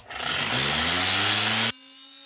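A Starboard plastic seat lid sanded with 220-grit sandpaper: a close, steady, rough whirring rasp that cuts off abruptly after under two seconds, leaving a faint lingering hum.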